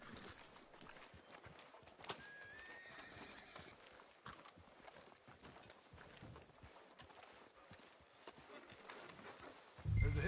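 Horse hooves clip-clopping steadily at a walk in the video game Red Dead Redemption 2, with a whinny and quiet ambient game sounds around them, faint and continuous for about ten seconds.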